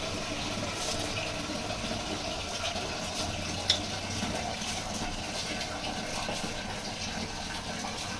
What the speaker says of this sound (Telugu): ఈ 5 గ్లాస్ రైస్ అంటే 10 గ్లాస్ వాటర్ వేసుకోవాలి.